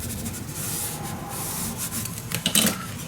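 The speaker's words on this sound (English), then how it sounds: "Burnish it down." Paper is burnished down by hand for a Moonchild craft folio, making a steady, close, soft rubbing that runs for about three seconds. A few brief sharper scrapes come near the end, and no one speaks.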